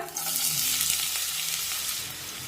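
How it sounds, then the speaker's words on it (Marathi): Finely chopped onion hits lightly heated oil in a pan while making pav bhaji, producing a steady, close, continuous sizzle with no talking. "आता तेल हलकंसं गरम झालं की त्यामध्ये बारीक कट करून घेतलेला कांदा टाकूया"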